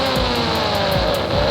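A Kawasaki ZX-10R sportbike in an Indian bike video game holds a steady high engine whine with a faint rising pitch, close and loud, brief and without talk.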